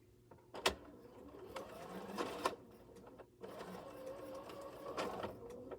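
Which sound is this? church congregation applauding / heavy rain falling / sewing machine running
sewing machine running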